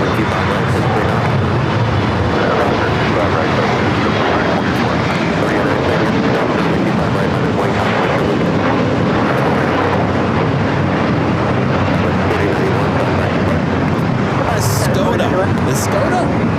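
A JetBlue airliner takes off at LAX, its engines producing a steady, loud broadband roar that holds for the whole stretch, with people talking over it throughout.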